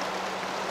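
Rain falls in a steady, dense hiss, close and even throughout, with no voices.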